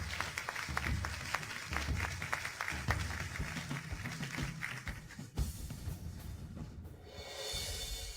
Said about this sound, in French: Veuillez accueillir sous vos applaudissements chaleureux le responsable de ce projet spécifique